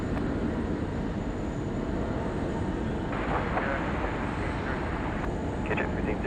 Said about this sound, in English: Nice landing too, very high nose.